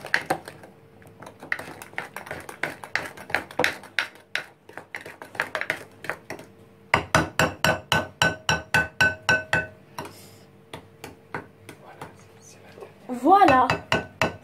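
A utensil scrapes and clinks rhythmically against a bowl while chocolate mousse mixture is stirred quickly, sharp repeated taps in bursts, with a short vocal sound near the end.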